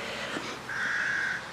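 Outdoors, a single hoarse, drawn-out call from a young carrion crow being weaned rises over a constant background rush, carrying from a moderate distance.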